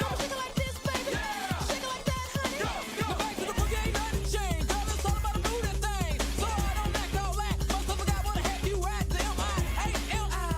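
The old dance track plays with a driving beat and chopped vocal samples, the bass kicking in heavier partway through.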